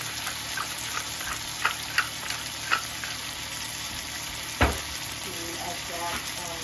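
Garlic, tomato and squash insides sizzle steadily in a pan, a continuous frying hiss broken by a few sharp clacks and one louder knock as the food is stirred, with no talking.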